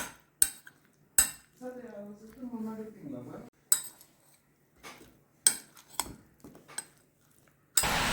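Mango salad being mixed with a spoon in a bowl: sharp, close clinks and taps of metal against the dish at irregular intervals, with a short stretch of voice in between.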